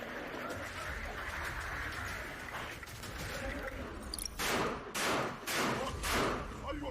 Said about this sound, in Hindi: हमास की आईडीएफ पर विध्वंसक फायरिंग